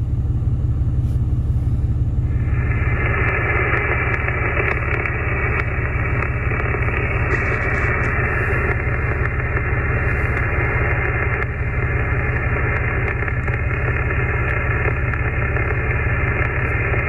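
Steady, loud broadband static hiss from a Yaesu-style 891 amateur radio receiver switched on, filling the whole stretch without a break, with a low rumble underneath and no voices.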